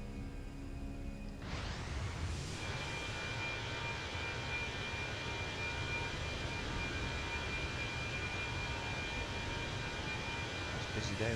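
Simulated airliner engines from Microsoft Flight Simulator 2020 hold a steady, even drone during the climb after takeoff, with a faint whine on top and a voice talking over it.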